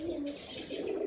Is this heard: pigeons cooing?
yes